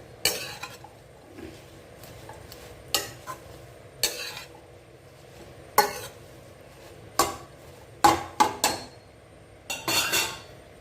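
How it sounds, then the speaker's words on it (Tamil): Mint leaves being lightly sautéed in a pan on low heat for mint rice, with repeated sharp clatters of a spoon against the pan over a quiet background, close and fairly loud, with no frying hiss standing out. "இப்போது புதினாவும் சேர்த்துக்கலாம் அந்த பச்சை வாடை போகாமல் நல்லா அந்த புதினா ஸ்மெல் இருக்கணும் அதனால் நம்ம லேசாக வதக்கி கொடுப்போம்"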